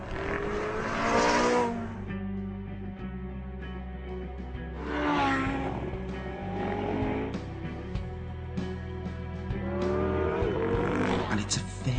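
A Porsche 918 Spyder sports car drives by in repeated surges, the engine note swelling and revving up through gears then easing off, with a voice talking over parts of it.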